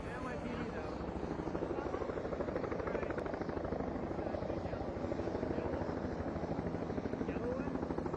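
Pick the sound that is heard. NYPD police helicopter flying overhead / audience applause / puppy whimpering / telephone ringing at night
NYPD police helicopter flying overhead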